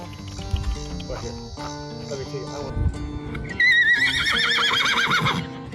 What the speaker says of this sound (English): That's horse talk for get off me, city slicker.